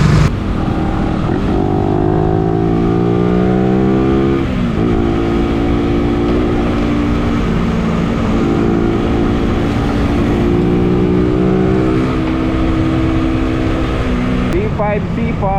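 A Suzuki Raider 150 fuel-injected motorcycle riding through traffic, its engine humming steadily near and loud with rising and falling revs as it shifts, plus a brief burst of higher revving at the end.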